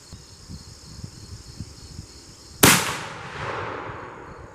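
A CVA Wolf muzzleloader rifle loaded with Powerbelt bullets fires one sharp, loud shot that cracks out of steady outdoor insect and cricket chatter, then leaves a long echoing tail fading across open ground.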